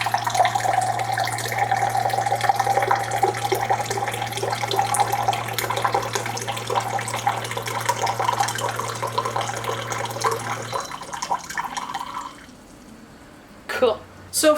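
SimPure water filter dispensing a measured 6 ounces of water into a drinking glass: a steady running stream with a low motor hum for about eleven seconds, stopping abruptly, followed by quiet and brief handling noises.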